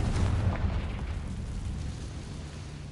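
A Confringo explosion spell goes off in the video game Hogwarts Legacy, a single loud boom at the start that decays into a low rumbling tail over a few seconds.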